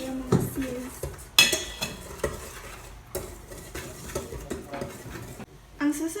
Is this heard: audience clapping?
no